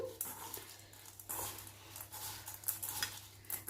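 Fried potato French fries for a farali fasting dish being tossed with black pepper and roasted cumin powder, heard as faint scattered scrapes and light clinks of a spoon against the pan.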